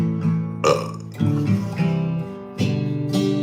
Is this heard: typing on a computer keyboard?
no